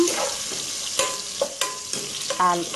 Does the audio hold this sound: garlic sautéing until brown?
yes